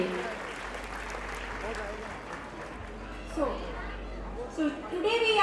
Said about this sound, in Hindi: जोरदार तालियां हो जाएं सर के लिए.